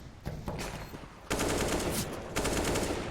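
Rapid gunfire from pistols in a Counter-Strike: Global Offensive match on the Dust2 map, heard as loud bursts of shots with a sharp onset partway through, continuing densely to the end.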